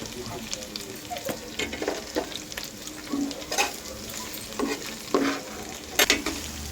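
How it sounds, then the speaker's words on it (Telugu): Telangana-style chicken curry masala with turmeric fries in a pan, a low steady sizzle punctuated by sharp, irregular spatula scrapes and knocks against the pan. "పచ్చివాసన పోయేదాకా వేయించుకోవాలి ఫ్రెండ్స్"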